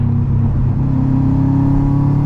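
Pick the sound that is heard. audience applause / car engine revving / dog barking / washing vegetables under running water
car engine revving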